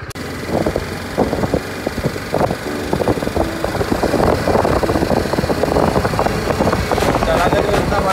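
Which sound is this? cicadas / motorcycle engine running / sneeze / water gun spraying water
motorcycle engine running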